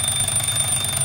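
The bell of a Wallace and Gromit Cracking Contraptions alarm clock rings in a fast, steady metallic trill, loud and close, with nothing else heard.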